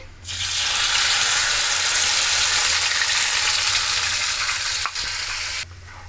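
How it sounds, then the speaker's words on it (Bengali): Poppy seed paste frying in hot mustard oil with black cumin, a loud steady sizzle that fills nearly the whole stretch while being stirred continuously, ending abruptly near the close. "আমি 5 মিনিট আমি কন্টিনিউসলি নাড়বো, যেন পোস্ত নিচে লেগে না যায় আর ভাজা ভাজা ভালো হয়"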